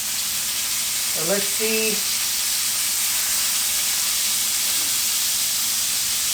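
Thin cuts of meat sizzling in a skillet, a continuous hiss of frying with a short spoken phrase near the start.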